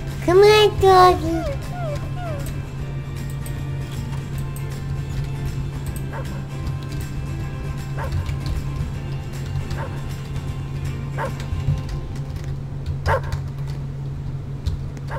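A dog in the video game Roblox gives a quick burst of high yips and whimpering whines near the start, over a constant low electronic hum, followed by scattered faint clicks.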